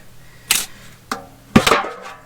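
Metal tin handled on a craft desk, three sharp clattering knocks spaced about half a second apart, the last one a longer rattling clank, close and fairly loud with no talking.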